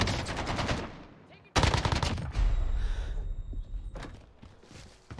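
Sustained automatic gunfire in Call of Duty Warzone, loud continuous bursts broken by a brief pause, with footsteps and rustling between volleys.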